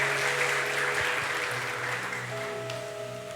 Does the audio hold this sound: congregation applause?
yes